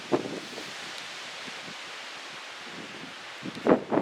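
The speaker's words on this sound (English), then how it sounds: "The wind here is wreaking havoc on this place because it's so open next to that pond." Wind gusts sweep across an open campsite beside a pond, a steady broadband rush with brief rustling bursts at the start and near the end, with no one talking.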